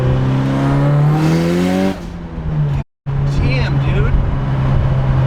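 A Mitsubishi Evo IX engine pulls hard at half throttle with a rising, close-miked growl and harmonic whine, then a brief gear-change gap before it resumes; a voice speaks over it.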